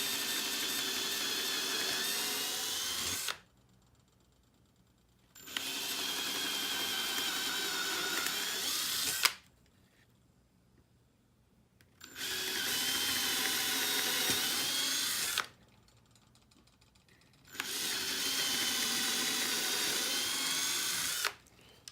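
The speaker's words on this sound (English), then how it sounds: "Now we'll pilot a hole on those lines." A power drill bores pilot holes in wood for a homemade bike stand, whining loudly in four long bursts separated by short quiet pauses.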